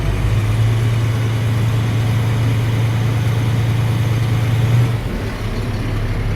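A vehicle engine is held at a raised 1,000 to 1,200 RPM during a parking brake tug test, giving a steady, droning hum for several seconds before it drops back toward idle, with no voices.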